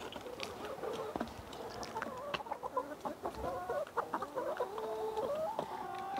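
Chickens clucking inside a coop during egg collection, a busy mix of overlapping clucks and rising calls, close and fairly quiet, with no talk.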